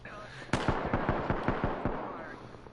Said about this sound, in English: There's already gunfire.